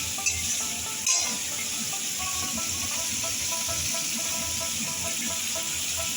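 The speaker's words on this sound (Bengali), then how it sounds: "এখন সমস্ত উপকরণ দিয়ে আমি খুব ভালো করে কষিয়ে নেব।" Spices and other ingredients for a snakehead fish and radish curry sautéing in a pan, with a steady close sizzle and hiss under occasional stirring clatter.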